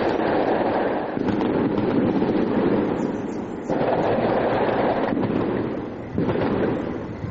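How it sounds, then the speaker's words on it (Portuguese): Fireworks bursting over a residential street during a protest, a dense, continuous crackle and boom that rolls on for several seconds with brief dips, heard from a distance without speech. "Alguns chegaram a gravar barulho de fogos de artifício."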